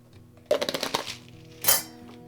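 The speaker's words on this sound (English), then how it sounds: "To support the absorption of turmeric, I'm adding some black peppercorns." Hard black peppercorns drop into a Froothie Optimum 9200A Vortex blender jug, giving a quick burst of sharp clinks and rattles, then a second brighter scatter of clinks moments later, close and fairly clear.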